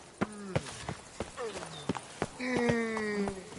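Horse hooves clip-clop in uneven steps as Roach the horse moves in the video game Witcher 3, each clop close and crisp, with a voice talking over them.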